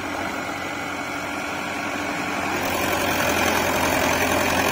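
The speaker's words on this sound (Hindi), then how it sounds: "ये देख सकते हो ट्रैक्टर स्टार्ट होकर पीछे का गियर भी लग गया, कितने आरपीएम है" Farmtrac 6055 tractor engine running steadily nearby, a loud continuous diesel drone that swells slightly partway through, with no voices.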